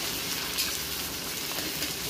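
Garlic paste goes into onions frying lightly in a pan, for mutton curry, giving a steady, close, dense sizzle that crackles evenly throughout with no talk over it.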